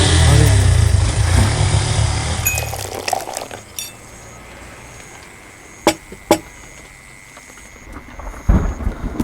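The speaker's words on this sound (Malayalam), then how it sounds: "മഴ." A burst of heavy rain roars at first, then fades to quiet, broken by scattered drips and a few sharp clinks.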